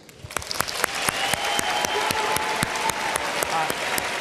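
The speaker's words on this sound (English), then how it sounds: "can we have a big round of applause, not just for Mr. Stewart, but for our students?" A town hall debate audience applauds the students, with sharp distinct claps near the start building into a steady, full round of clapping that carries on to the end.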